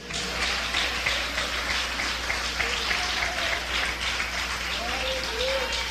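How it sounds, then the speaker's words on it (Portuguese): A church congregation applauding during a sermon, a continuous wash of many hands clapping with a low hum underneath and faint voices mixed in. "Alguém pode aplaudir a Jesus?"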